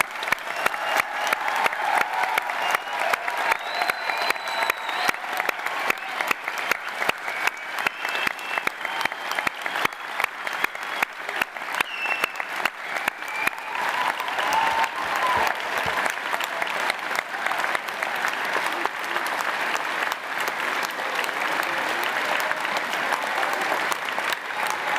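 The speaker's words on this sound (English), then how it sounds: "can I please ask you to join me in giving all our graduates a round of applause" An audience at a University of Salford graduation ceremony for the School of Science, Engineering and Environment applauds the graduates, a dense, sustained wash of clapping from a large crowd that carries on evenly for about twenty-five seconds.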